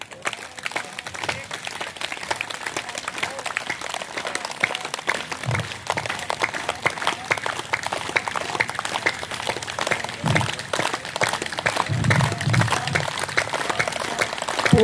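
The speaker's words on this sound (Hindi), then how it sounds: "एक मिनट ताली भी बजाएंगे।" Participants at an outdoor International Yoga Day session clap their palms together in a steady, rapid rhythm for many seconds, a dense continuous patter of many hands with faint voices underneath.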